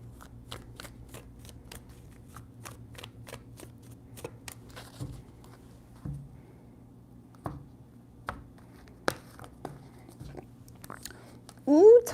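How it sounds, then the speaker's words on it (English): Tarot cards are shuffled in a series of crisp, close riffling snaps and soft slaps, spaced irregularly at first and then sparser, with a brief voice near the end. "3 shuffles."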